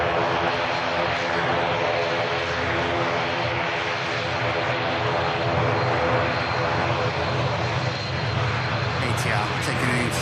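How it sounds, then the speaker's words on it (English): ATR turboprop airliner rolling for an intersection departure at Manchester Airport, a steady loud propeller and engine drone held throughout, with a faint voice over it. "ATR taking an intersection departure."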